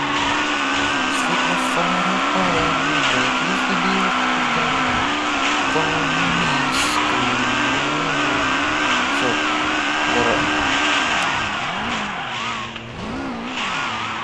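Cars drifting in Car Simulator 2, a continuous loud engine roar at high revs with tire squeal and skidding layered over it, steady throughout with a brief dip near the end and no talk.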